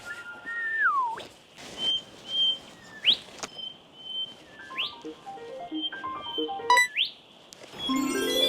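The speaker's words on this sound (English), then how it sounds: "There's a golden whistler somewhere around here." A golden whistler sings in Tasmanian bush, giving several loud, clear whistled phrases with rising whip-like upsweeps spaced through the clip, with softer bird calls and a faint rustle between them.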